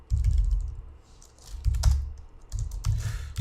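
Typing code on a computer keyboard, with several close bursts of rapid key clicks and thumps and brief pauses between them, no voice.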